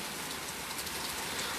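Hard rain falls in an even, unbroken wash of hiss and patter, with no voices or other sounds.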